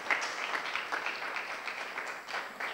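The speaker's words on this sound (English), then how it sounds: "can you please give them a very big round of applause so that they can hear it?" Round of applause from a conference audience at a live law event, many hands clapping in a steady, moderately distant wash that carries on for several seconds without talk.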